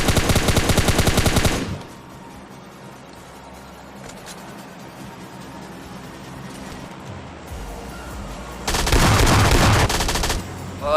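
Loud bursts of rapid gunfire from a battle in PUBG Mobile Lite, including an S12K shotgun, open and close the stretch, with a quieter gap of low rumble in between.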